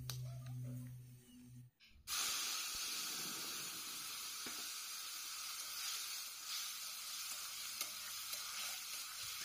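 Cumin seeds are tempered in hot oil in a wok with a quiet hum at first, then a sudden steady, bright frying hiss that carries on evenly, with faint stirring noises now and then.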